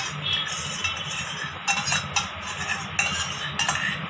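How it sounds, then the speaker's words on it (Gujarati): A spoon stirs cream gravy into mixed vegetables in a pot, with repeated close clinks and scrapes of metal against the pot over a low simmering bubble. "હવે બરાબર રીતે મિક્સ કરી દઈએ."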